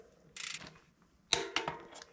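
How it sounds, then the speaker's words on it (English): Torque wrench tightening bicycle drivetrain bolts to 40 newton meters: two short bursts of mechanical clicking and ratcheting, each about a quarter second long, close and fairly quiet against a low background. "40 Newton meters or 29 foot-pound of torque, which is what I have the torque wrench set to."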